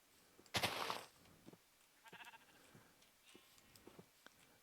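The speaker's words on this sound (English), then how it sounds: "All right, buddy sheep, come here." A sheep in the Minecraft video game lets out one loud, close bleat, followed by faint scattered game sounds.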